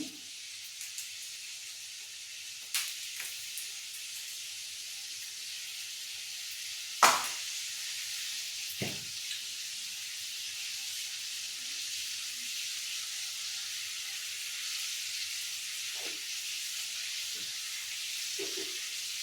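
A steady, soft sizzle of pickle frying in a pan, with a few brief scraping knocks from stirring; quiet and continuous, no talking.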